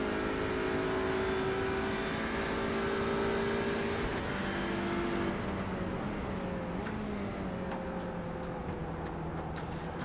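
Racing cars drive through a corner complex at Monza during a junior race, with loud, steady engine drones holding pitch and then stepping down as they brake and shift, several engines overlapping close by.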